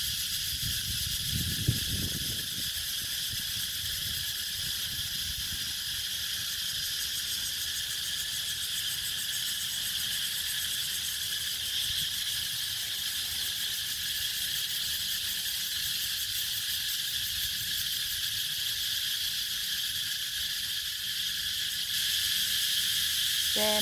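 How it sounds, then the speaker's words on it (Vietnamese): Cicadas singing at the start of summer at a war memorial cemetery: a steady, dense buzzing drone that runs loud and unbroken throughout, with a brief low rumble near the start. "Mời quý vị lắng nghe tiếng ve kêu."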